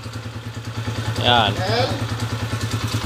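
A Motorstar TMX 155 motorcycle, being converted to a five-speed transmission, idles with a steady low rhythmic chug and clatter while people talk nearby.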